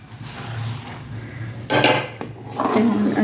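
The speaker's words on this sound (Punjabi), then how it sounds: "ਅਤੇ ਹੁਣ ਅਸੀਂ ਆਪਣੇ ਚਮਚ ਨੂੰ ਅੱਛੀ ਤਰ੍ਹਾਂ ਘੁਮਾਉਣਾ ਵਾ, ਇਹਨੂੰ ਮਿਕਸ ਕਰਨਾ ਵਾ ਅੱਛੀ ਤਰ੍ਹਾਂ" A spoon stirs milk and bread crumbs in a kadhai while homemade khoya is made, with close scraping and knocking strokes against the metal pan that grow louder toward the end and no voices.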